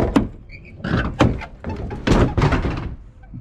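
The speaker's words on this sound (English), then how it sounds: "the driver door." Driver door of a cheap, battered Chevrolet Camaro Z28 being worked open and shut, giving a run of heavy thunks and knocks with creaky metallic scrapes between them, close and fairly loud.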